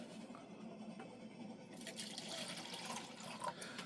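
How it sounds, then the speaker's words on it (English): Water pours into a cup, a low steady trickle that brightens into a fuller splashy fill partway through, close and fairly faint. "put a little more water into this cup"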